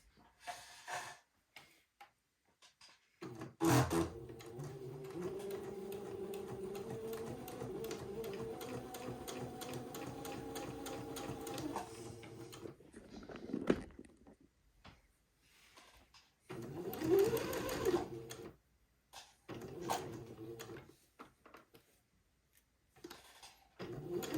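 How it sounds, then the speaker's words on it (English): A sewing machine stitches one side of the entredeux seam on a baby daydress bodice. Quiet, steady motor runs sound for about ten seconds, then shorter bursts follow with pauses between them. "I will stitch one side of the entredot"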